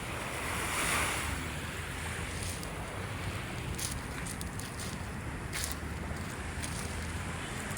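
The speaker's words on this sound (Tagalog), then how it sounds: "Ayan yung alon, oh. Mahina pa lang naman yung alon" Gentle waves wash against the Manila Bay shore in a steady, soft surf hiss, accompanied by a light breeze and no voices.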